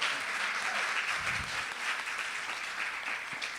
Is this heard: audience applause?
yes